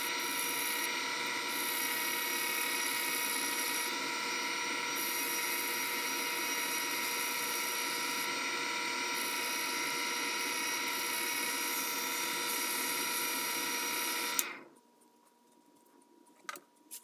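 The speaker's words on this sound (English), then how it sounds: "Now I'm smoothing and polishing the ferrule on the lathe." A lathe turning while a screwdriver ferrule is smoothed and polished, a steady mechanical whine and hum that holds evenly for about fourteen seconds and then cuts out, leaving near silence with a few faint knocks.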